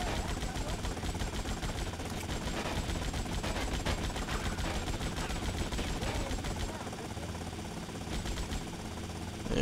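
Heavy, continuous automatic gunfire from a helicopter in the video game GTA Vice City rattles on in dense bursts with engine drone beneath, then drops off near the end as someone talks over it.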